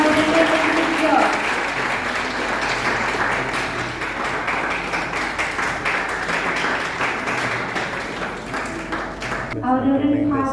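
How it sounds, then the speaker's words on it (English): Sustained applause from an audience at a competition concluding session, a dense, even roar of many hands clapping for about ten seconds before stopping abruptly, with a voice starting to speak as it ends. "Let us clap for them."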